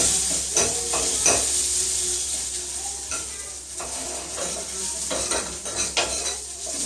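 Coriander leaves are sautéed in a pan for kattu paruppu, a close crackling sizzle with repeated spatula scrapes and stirring clatter throughout.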